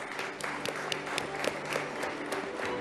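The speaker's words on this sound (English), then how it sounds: "I request the audience to give them a huge round of applause." An audience at a financial freedom summit applauds the panelists with sustained, moderately loud clapping from many hands, individual claps crackling through a continuous wash.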